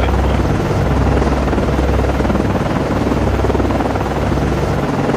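A helicopter in the naval combat game Cold Waters drones loud and steady, a thick rotor and engine roar that holds the whole time with no voices over it.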